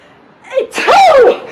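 A voice imitates a sneeze: a short inhaled build-up followed by one loud, drawn-out mock sneeze, close and clear with no other talk.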